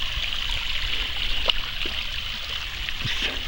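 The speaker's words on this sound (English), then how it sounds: "In fact, the water's running," Water runs steadily along a lake hiking trail, a soft continuous trickling wash with a few faint splashes and knocks. It is heard alone, with no talking.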